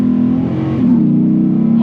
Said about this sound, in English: Oh, it chirps when it shifts.